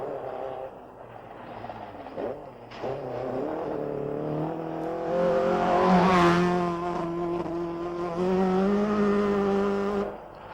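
A Nissan rally car in the 1985 Ivory Coast Rally pushing through a mud patch at a sedate pace, its engine droning then rising into a loud, strained revving whine before easing off.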